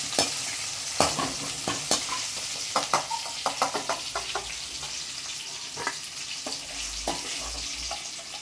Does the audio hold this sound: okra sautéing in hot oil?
yes